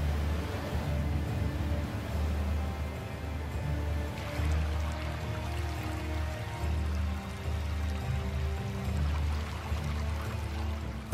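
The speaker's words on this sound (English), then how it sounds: "The downpour can be torrential." Torrential summer downpour pouring over a vast river delta, a dense, steady roar of rain and water close by with no pauses, running unbroken for the whole stretch.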